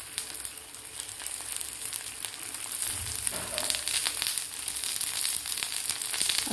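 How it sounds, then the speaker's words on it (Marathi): Colocasia leaves shallow-fry on an iron tawa with a modest, even sizzle close by, broken by a few faint crackles and clinks, with no talking. "आता आपल्याला हे शॅलो फ्राय करून घ्यायचे आहेत पानं"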